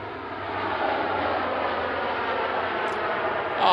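An airplane at Manchester Airport passes as a steady, broad engine roar at moderate distance, holding even throughout and swelling slightly at the end.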